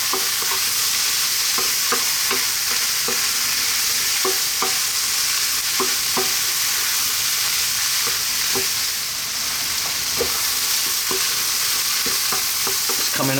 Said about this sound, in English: 4 minutes, staying on this high heat and stirring often.